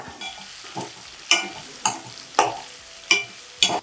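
Ivy gourd (dondakaya) being stir-fried in a pan, with a light background sizzle broken by five or six sharp, regularly spaced scrapes of a spatula against the pan.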